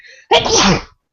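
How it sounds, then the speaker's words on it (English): One loud, explosive sneeze close to the listener, abrupt and forceful, then silence. "That's a ridiculous sneeze."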